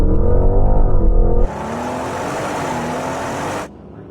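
Lamborghini Urus, Porsche Cayenne Turbo and Audi RSQ8 launch together in a drag race, a loud rising engine roar giving way to a broad, steady rush of wind and engine noise that cuts off sharply near the end.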